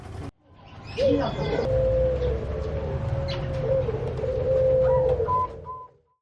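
A Bangkok perkutut zebra dove coos close by, a sustained run of soft rhythmic trilling notes over a low background hum, with no talking.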